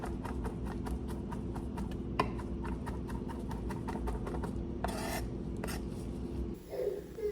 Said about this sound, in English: So I'm just gonna mince this.